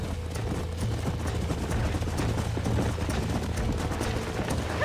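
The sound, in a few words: horses galloping in video game Red Dead Redemption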